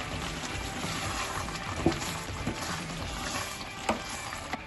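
Cassava leaves with celery and spring onion cooking in a pot, stirred with soft scraping and a couple of brief knocks over a steady low simmering sizzle, close and fairly quiet.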